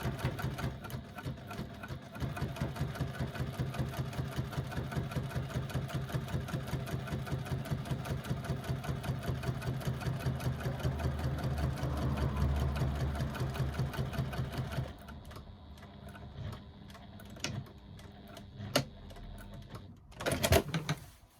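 A sewing machine runs steadily while top stitching a second line on fabric at one-eighth of an inch, a dense continuous mechanical whir that stops partway, followed by a few faint clicks and handling noises.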